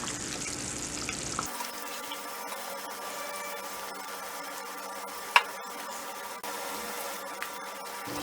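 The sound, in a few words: fish being added to simmering fish curry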